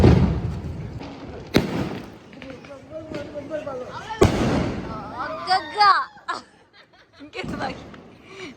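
Diwali firecrackers pop and bang at a distance, a few sharp bursts scattered among excited voices talking and shouting.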